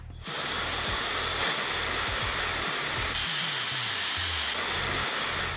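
A Xiaomi hair dryer switches on and blows continuously, a close, even airy roar with a slight hiss, holding steady for several seconds with no speech.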